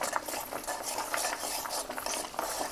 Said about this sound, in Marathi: हे मिश्रण असं हलवत राहायचं जेणेकरून पातेल्याला चिटकणार नाही